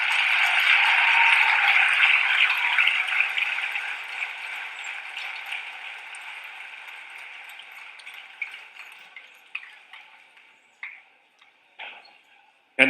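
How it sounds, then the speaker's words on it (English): An audience applauds at a basketball coaches' show, a dense burst of clapping that gradually thins to a few scattered claps, no talk. "So, Morton, give yourself a big round of applause."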